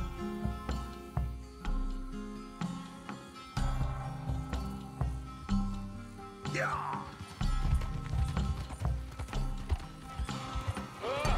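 A horse gallops in Red Dead Redemption 2 with a steady rhythmic clip-clop of hooves, close and fairly loud, accompanied by tack rattle and mechanical clanking.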